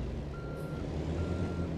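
A truck's reversing alarm beeps steadily while it backs up, two long tones over a low idling engine rumble, fairly close and clear with no talk.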